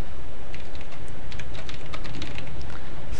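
Typing on a computer keyboard, a steady run of close, light key clicks with no talk over it.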